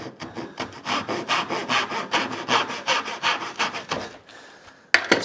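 Hand saw cutting wood for a dovetail drawer joint, a steady run of about fifteen rhythmic rasping strokes heard up close and alone, ending with a pause and a brief knock.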